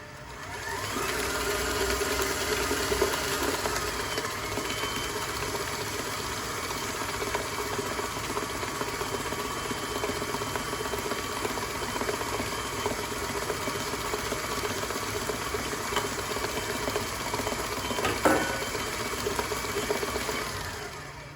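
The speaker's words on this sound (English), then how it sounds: "I'm gonna start my mixer on low and I'm just going to dump this right in." Electric mixer running on low while mixing chocolate cheesecake filling, a steady mid-pitched motor whir with faint mixing noise, close and continuous for about twenty seconds with no speech.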